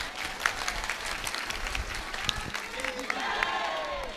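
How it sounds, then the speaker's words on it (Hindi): Audience applause at a religious discourse gathering, scattered clapping from a crowd building into steadier applause, with voices and some murmuring mixed in. "अब ताली बजाओ।"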